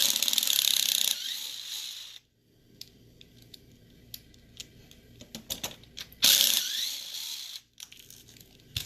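Screws being removed from the front differential of a TLR 8ight-X RC car, with a ratcheting driver clicking in rapid bursts and light metallic taps, close and fairly quiet.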